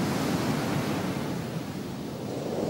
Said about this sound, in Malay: Ombak jahat!